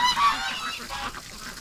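Several geese honk in a loose, overlapping chorus among wintering ducks and geese, the calls fairly close and steady, with a few sharper honks near the start and no voices over them.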